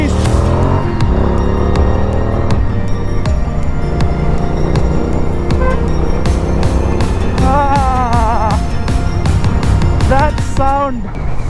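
A Triumph Street Twin motorcycle engine revs loudly and steadily throughout, with a deep continuous throb and rising pitch sweeps near the end, while someone talks over it.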